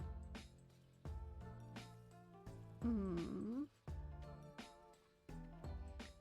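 A cat lets out a single drawn-out, wavering meow midway, close by and moderately loud, amid soft clicks and rustling from indoor handling.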